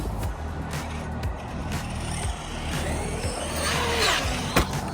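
A Traxxas RC truck climbs a giant dirt hill, its small electric motor whining and straining in uneven surges alongside scraping and crunching of dirt, heard close outdoors.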